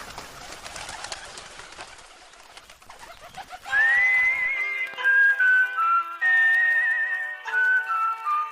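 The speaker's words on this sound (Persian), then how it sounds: "چند کبوتر وحشت زده از روی دیوار پریدند و به آسمان پناه بردند." Startled pigeons burst off a wall in a brief flurry, followed by a run of loud, clear whistling bird calls that rise and fall in separate phrases.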